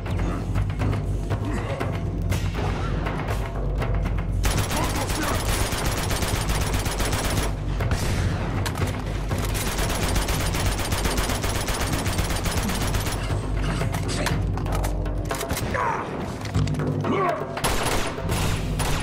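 Sustained gunfire in Uncharted 2: dense overlapping bursts of automatic fire and rapid shots that keep up loudly throughout, with occasional mechanical clunks underneath.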